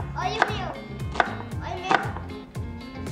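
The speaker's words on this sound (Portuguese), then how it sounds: "Quer cortar cebola?" Knife chopping onion on a cutting board for a Coca-Cola onion hot dog recipe, a few sharp close cuts spaced about every three-quarters of a second over a low background hum.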